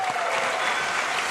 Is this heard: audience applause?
yes